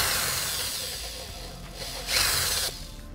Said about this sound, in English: Now I'm gonna take my drill and be delicate but forceful.